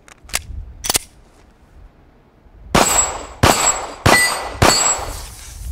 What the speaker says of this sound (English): It's, smoother shooting in the 9mm as opposed to the 40.